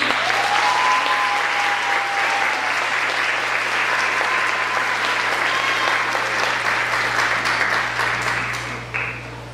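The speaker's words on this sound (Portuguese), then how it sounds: "palmas pra ela, gente." Audience applause at a live show, a dense, steady clapping from a crowd that carries on loud for several seconds before tapering off near the end.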